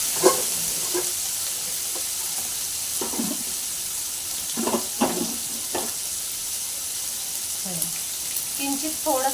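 Paneer frying in a pan makes a steady, fairly loud sizzle, broken by scattered clinks and scrapes of a spatula, with no talk over it.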